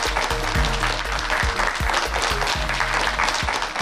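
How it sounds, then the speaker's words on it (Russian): Studio audience of a television talk show clapping for an arriving guest, steady and fairly loud applause throughout, with a faint voice underneath. "Ваши аплодисменты"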